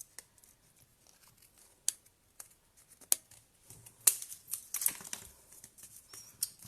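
Scissors trimming papercraft card stock on a scrapbook page, a few quiet isolated snips followed by a denser run of close crisp cuts, with small handling taps between them.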